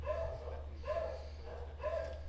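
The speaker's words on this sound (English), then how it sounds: "The dogs are barking." Dogs barking in a few short, evenly spaced bursts, about four barks over two seconds, fairly faint and somewhat distant, with no talking over them.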